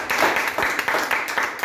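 Church congregation clapping for the Lord during a Spanish-language service, a steady dense wash of many hands applauding continuously at moderate loudness.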